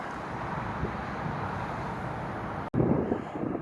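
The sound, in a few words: wind blowing over microphone on a breezy hill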